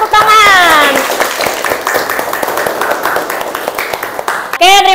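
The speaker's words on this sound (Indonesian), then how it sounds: "Kita beri tepuk tangan." Students in a classroom clap briefly for a classmate, a short burst of scattered claps mixed with voices, with a teacher talking over the start and end.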